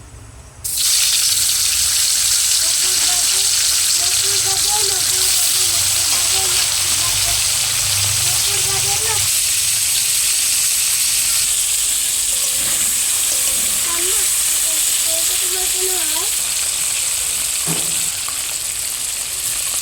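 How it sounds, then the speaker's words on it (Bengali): Hot oil sizzles and hisses loudly and continuously after mud eels drop into the pan, with faint bubbling underneath. "তেল গরম হয়ে গেছে, কুচেগুলো দিয়ে দেব।"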